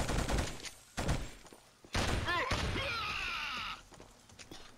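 Gunfire from a Luger pistol in the shooter game Killzone, heard as loud repeated sharp bursts amid other battle noise, with a voice groaning partway through.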